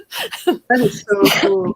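A person sneezes during a relaxed radio chat show, a short burst caught amid steady conversation, with talking before and after it.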